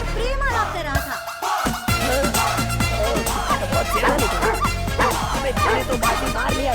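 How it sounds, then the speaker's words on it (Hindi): Dogs yip and bark in quick repeated bursts over a continuous music bed, close and fairly loud, in a scene set inside a lift in a dubbed feature film. "आपका कुत्ता मेरी कुत्तिया के साथ लिफ्ट के अंदर प्रेम आलाप कर रहा था"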